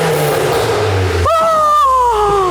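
Cheap performance car fitted with £3,000 of modifications, engine rumbling then revving up hard, a loud rising and falling mechanical tone right up close, with a person talking over the first half.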